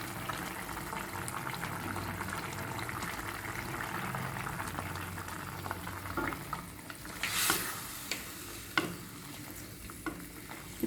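Mutton coated in ground pepper paste fries in a pan with a continuous bubbling sizzle, joined later by a few louder spoon scrapes and clanks against the pan, close up with no voices.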